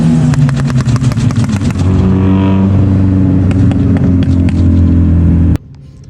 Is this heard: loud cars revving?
yes